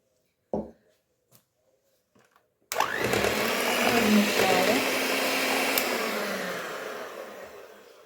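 An electric mixer whips room-temperature milk into sour cream for a mosaic cake, starting after a few soft handling knocks and then running as a loud, steady whir that eases slightly toward the end.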